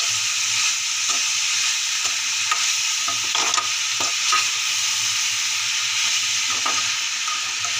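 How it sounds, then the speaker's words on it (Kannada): Cabbage palya being stirred in a pan over a low flame, with a soft continuous sizzle and repeated light scraping clicks from the spoon against the pan, close and steady, with no voices. "ಲೋ ಫ್ಲೇಮಲ್ಲಿಟ್ಟು ಇದಕ್ಕೆ ನೀರು ಮಿಕ್ಸ್ ಮಾಡಿದ ಹಾಗೆ ನಾನು ಇದನ್ನು ಮಿಕ್ಸ್ ಮಾಡ್ತಾ ಇದ್ದೀನಿ"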